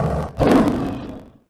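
A lion gives one loud, close roar that swells suddenly, rumbles for about a second and then fades away into silence.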